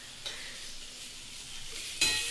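Oil sizzles in a pan while chow mein is stir-fried, a steady close hiss with a sharper burst of frying near the end.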